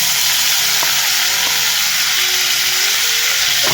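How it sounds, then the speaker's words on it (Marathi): Hyacinth bean pods sautéing with roasted garlic in a pan, a loud continuous sizzle and hiss with a few light stirring taps, steady throughout. "आपण आता इथे घेवड्याची शेंग घालून घेऊया"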